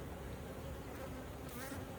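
Honey bees crawl over waxed frames in an opened hive, a dense continuous buzz close by, low and even, with no voices.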